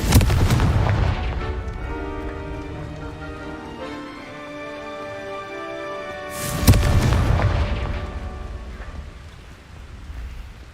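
Confringo fire spell from the video game Hogwarts Legacy, two loud booming blasts with a rumbling tonal tail and crackle after each, the second burst arriving about six seconds after the first.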